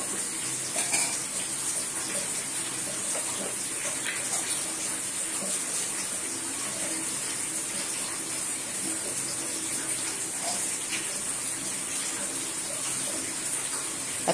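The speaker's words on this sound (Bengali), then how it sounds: "এখন ওই গরম তেলের ভিতরে ঢেলে দেওয়া হচ্ছে" Hilsa fish kofta frying in hot oil gives off a steady, unbroken sizzling hiss that lasts the whole time at an even level, with no talking.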